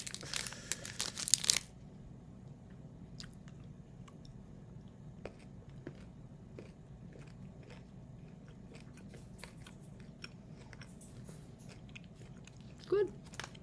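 A snack wrapper for a vegan, keto caramel crunch bar crinkles loudly and briefly at the start, followed by quiet, faint bites and chewing close to the microphone, with one short louder rustle near the end.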